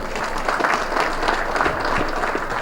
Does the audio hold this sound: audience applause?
yes